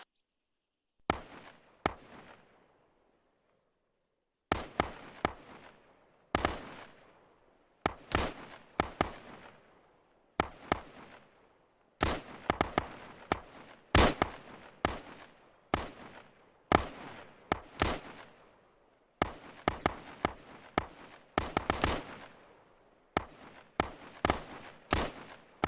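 An M4 rifle fires from a prone position at 300 meters, shot after shot in spaced bursts of one to several sharp cracks. Quiet gaps of a second or two separate the bursts.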